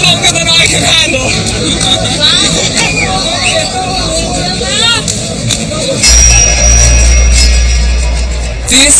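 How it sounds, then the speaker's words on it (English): A large festival crowd celebrates, its babble rising in sudden spontaneous outbursts of shouting and cheering, with a low rumble of vehicles or drums joining loudly in the final seconds. "just these little spontaneous outbursts in the crowd"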